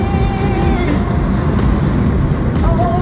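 A car is being driven with a steady, loud engine and road rumble close by, carrying on without break for a few seconds. Faint whistling tones drift over the drone.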